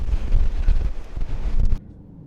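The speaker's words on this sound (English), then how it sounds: "Yeah, but another windy overlook." Strong wind at a scenic overlook buffets the microphone in a loud, rumbling roar that suddenly drops away near the end, leaving a quiet hush.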